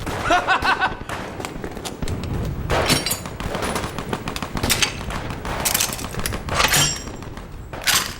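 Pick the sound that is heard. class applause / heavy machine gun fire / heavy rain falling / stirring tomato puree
heavy machine gun fire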